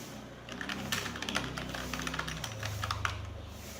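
Rapid keystrokes on a computer keyboard while new text is typed in a Word document: a steady, uneven patter of close clicks lasting several seconds over a low background hum, with no talking.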